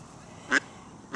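Two short, loud duck quacks, spaced about half a second apart, ring out over faint background noise.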